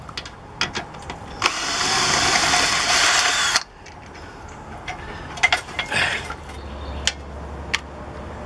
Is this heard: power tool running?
yes